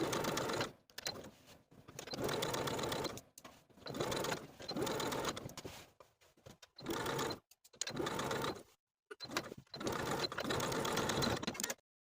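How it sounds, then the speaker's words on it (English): A sewing machine stitches jacket pocket seams in several close, rapid whirring bursts separated by short pauses. "Then take it to your machine and start sewing from the top of the pocket"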